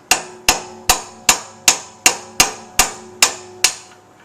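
Steel hammer repeatedly pounding a punch out of a bullet swaging die for .45-70 bullets, ten sharp evenly spaced metallic strikes, each ringing briefly before the next, loud and close with no talk.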